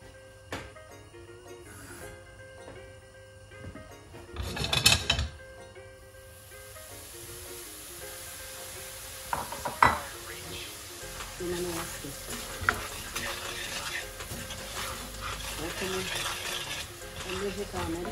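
Sugar with two tablespoons of water heats in a large preheated frying pan, starting with a loud hiss and clatter as it goes in, then settling into a steady close sizzle with occasional utensil clinks.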